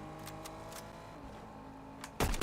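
Cars passing on a road outdoors: a steady low engine hum runs throughout, then a loud, close whoosh of a vehicle rushes by near the end. No one speaks.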